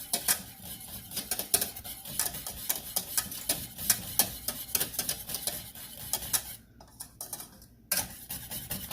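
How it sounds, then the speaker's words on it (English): Goat cheese sauce being whisked in a pan gives a steady run of quick metallic scrapes and clinks close up, with a brief lull near the end before the rhythm resumes. "just kind of whisk this up"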